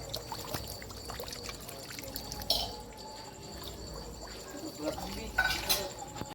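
A container fills with water from a running motor pump in a garden, giving a continuous pouring and trickling rush with occasional drips and a few brief splashes or knocks.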